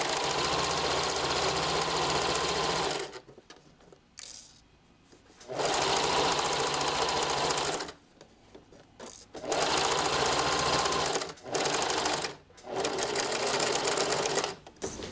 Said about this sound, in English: Lock in your stitches at the beginning and then sew along.